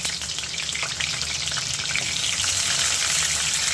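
Whole tomatoes laid upside down in heated oil over a medium flame fry with a loud, dense, continuous sizzle close by, holding steady throughout with no voices over it.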